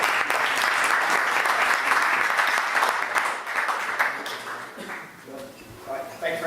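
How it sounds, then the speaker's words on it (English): A meetup audience gives a big round of applause for a presenter arriving at the front. The loud, dense clapping runs steadily for several seconds, then thins and fades toward the end. "give a big round of applause"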